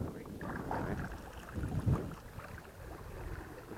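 Outboard-powered small fishing boat motoring along a lake edge, a steady low engine drone mixed with wind buffeting on the microphone, continuous and fairly close with a brief louder swell midway.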